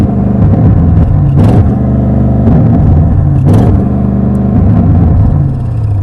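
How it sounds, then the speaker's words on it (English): A 2023 Audi RS7 with sports exhaust revs at a standstill, the engine rising in two sharp blips against a soft rev limiter, with a loud, close, continuous rumble between them. "so you're going to rev it at traffic lights"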